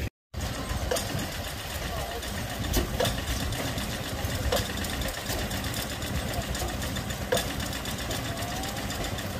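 A big Roots diesel engine runs at the Booleroo steam and traction rally, a steady mechanical chugging and clatter with periodic sharp knocks throughout, heard at moderate distance with faint voices nearby.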